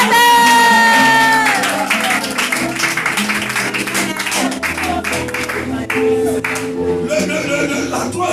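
A congregation at a sermon on pride claps and cheers, with a dense spread of applause and raised voices mixed with music and speech throughout.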